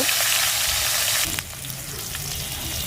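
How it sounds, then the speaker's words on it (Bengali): Fish sizzling in hot oil on a leaf-fired stove, a loud, dense hiss that drops sharply partway through, then a softer steady crackle continues. "তেলটাও অনেকটা হিট হয়ে গেছে তো আমি মাছটাও দিয়ে দেব"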